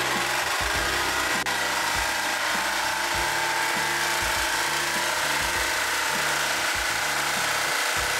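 Power tool cuts through a metal backsplash panel in rapid, chattering bursts that start and stop repeatedly, loud and close with a harsh grinding edge throughout.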